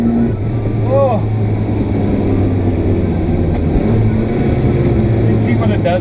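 A classic Renault 5 race car engine drones steadily and loudly from inside the cabin, with a brief rising rev and people talking over it.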